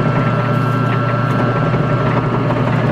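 A lathe spins during home friction welding, producing a loud, continuous mechanical drone with a steady vibrating hum and no pauses.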